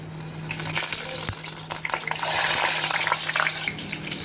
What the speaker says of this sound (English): Now we are going to put our brinjals and we are going to fry our brinjals in this.